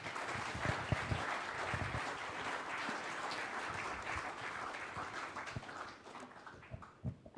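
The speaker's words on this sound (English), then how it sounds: "Let's give them a round of applause." A live audience at a Go programming language conference claps for a discussion panel, a dense, sustained burst of applause that stays loud for several seconds before thinning out into scattered claps near the end.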